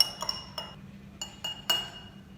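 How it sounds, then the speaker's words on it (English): Metal spoon stirring a digestive enzyme drink in a glass, giving six or so bright, quiet clinks in an irregular rhythm against the glass, close by with no talking. "So I'm going to stir this up."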